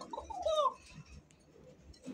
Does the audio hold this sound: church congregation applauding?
no